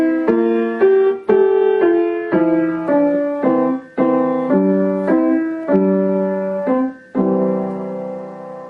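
Piano notes play the last line of Ode to Joy at a steady tempo, each note ringing clearly and decaying alone with no voices.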